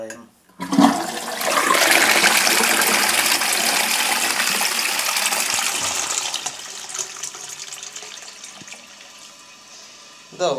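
A household toilet flushes after cleaning, a sudden loud gush of rushing water that swirls and slowly tapers into a quieter trickling refill, close by with no talk over it.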